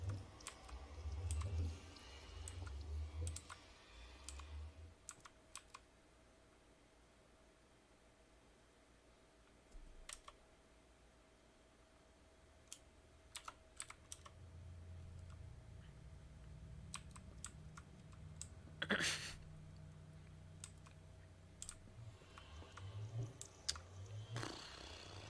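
A computer keyboard is typed on in sparse, faint clicks and short clusters of keystrokes over a quiet background hum, with a brief louder burst near the end.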